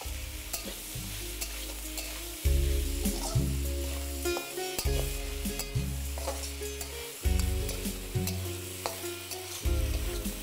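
Chopped tomatoes with salt sizzle in a pan for a rice-and-lentil dish while a spoon stirs and scrapes them, steady frying hiss with repeated clanking stirs and no voices.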